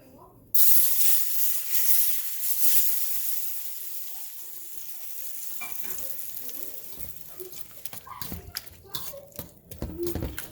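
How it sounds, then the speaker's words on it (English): Hot oil hits roasted eggplant for baigan choka with a sudden loud hiss that settles into a steady sizzle, fading into crackles and clatter as a voice speaks over it. "here I'm gonna put the hot oil."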